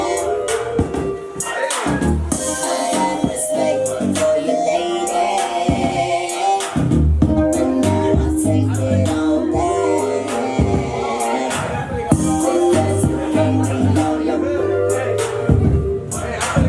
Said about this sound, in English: And a Talkbox is a sound that you hear that sounds like this.